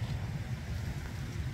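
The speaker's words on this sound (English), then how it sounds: "it's very windy out here" Steady low wind buffeting the microphone in a park in Glasgow, a constant rumbling roar with no voices or other sounds.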